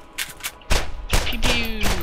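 Guns firing in the Borderlands video game: several sharp, loud gunshots in quick succession, with a rising whine running under the later shots.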